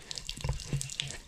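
Water sputtering in uneven bursts from a partly frozen garden hose on a farm, with faint irregular splashes and drips that sound close but quiet.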